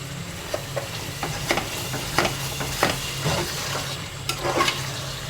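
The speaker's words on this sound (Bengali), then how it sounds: "এখন আমি ওগুলাকে ভালো করে কষিয়ে কষিয়ে নিয়ে" Chicken and spices sautéing in a pan for a morog polao, a steady frying sizzle broken by repeated scrapes and clinks of a spoon stirring against the metal, close and fairly loud with no talking.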